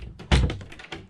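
A wooden cabin door on a 2007 Broom 450 yacht swings shut with one solid close thunk, followed by a lighter knock, up close in a quiet interior.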